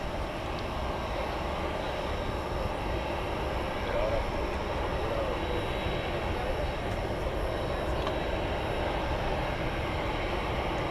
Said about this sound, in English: another 747 takeoff tonight